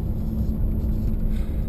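Nissan Titan pickup truck engine rumbling, a steady, deep, close low-frequency drone that holds even throughout the short stretch with no speech.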